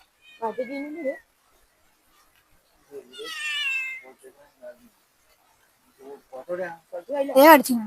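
A cat meows in short bursts in a backyard by a fish pond, between stretches of human talk, with a louder, higher cry near the end.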